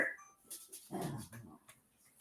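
An old dog whimpers softly in short, faint whines and snuffles indoors, a few brief sounds with quiet gaps and no one speaking over them.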